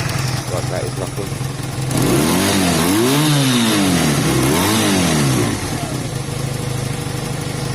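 A Honda CB250 cafe racer motorcycle, nearly finished and slightly smoky at idle, putters steadily up close, then its engine revs up and down twice in quick swells before settling back to a steady idle.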